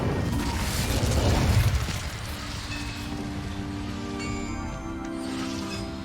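A fire spell cast in the Hogwarts Legacy video game: a loud, roaring burst of flame swells for about two seconds, then subsides into a lingering crackle and magical hum.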